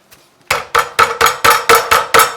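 A chicken breast being pounded flat for chicken parmesan: seven loud, evenly spaced thuds in a steady rhythm, close up, with no talking.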